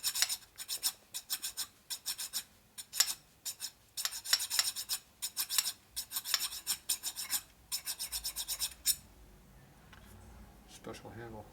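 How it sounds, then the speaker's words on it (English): A dull hand file rasps against a Harley-Davidson rocker arm from a Panhead or Shovelhead engine rebuild, in rapid bursts of close, scratchy strokes with short pauses, then stops near the end. "this is not coming out very quickly with grinding this method like this. Especially on a dull ass file that barely cuts."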